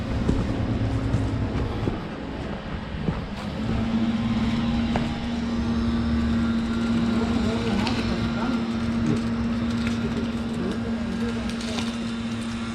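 A concrete truck idles beside a trailer concrete pump on a pour site, a loud, steady diesel rumble with a sustained low engine tone, while someone talks over it.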